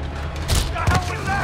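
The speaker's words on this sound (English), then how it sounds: "More rockets? A little excessive, don't you think?" Rockets firing and exploding in the Marvel's Spider-Man video game, a quick pair of loud, close booming blasts layered over dense game action and speech.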